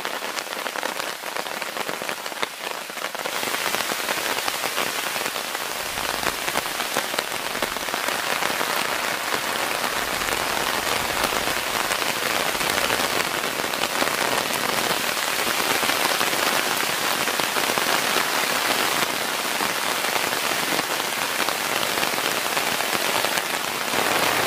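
Heavy rain drums steadily on a Naturehike Girder Hexagon Tarp at night, a dense, continuous patter that holds loud and unbroken throughout, with no voices.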